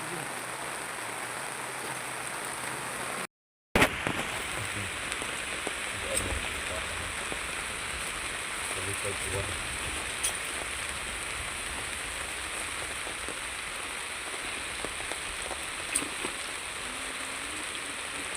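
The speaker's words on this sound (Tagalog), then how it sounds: "It's raining here." Rain falls steadily in a forest during a charcoal harvest, a dense, even hiss of drops on leaves and surfaces that runs the whole time, broken only by a brief cut near the start.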